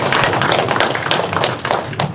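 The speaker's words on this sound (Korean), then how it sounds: "박수 한번 드리도록" An audience at a lecture hall event gives a short burst of applause, brisk clapping that is dense and steady for about two seconds with no talking over it.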